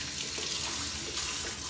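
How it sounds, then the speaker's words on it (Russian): Cold tap water runs steadily into a kitchen sink while raw chicken is rinsed under it, a continuous close splashing hiss with no voices. "я ее всегда обмываю холодной водичкой"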